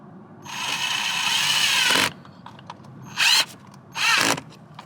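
A power drill drives regular self-tapping screws into a Subaru WRX to mount a fire extinguisher, one long whirring burst followed by two shorter ones with small clicks and handling noises between, close up.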